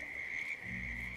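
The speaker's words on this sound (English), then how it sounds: "I hear a lot of frogs." Frogs croak in the Whittleton Creek frog habitat of the Hitman VR game, a steady high trilling chorus with a low rumbling layer rising in the second half, continuous and moderately near with no talking.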